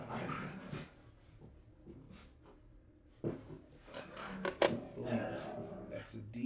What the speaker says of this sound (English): as usual, the dogs are fooling around